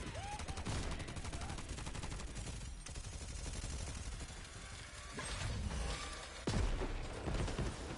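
Turret machine gun in Borderlands 3 firing in long sustained bursts, a dense continuous rattle that stays loud throughout with a heavier blast near the end, game effects layered over it.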